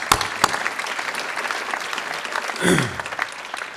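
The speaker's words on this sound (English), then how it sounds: "Let's give them all a round of applause." Applause from an audience at a chamber of commerce awards dinner for the evening's honorees, a continuous, moderately loud patter of many hands with a few sharper claps early on and a brief swell near the end.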